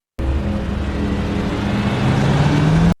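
A police car rolls up and comes to a halt beside another car at a red light in a film scene, its engine a steady, close rumble that swells slightly as it pulls in, heard alone.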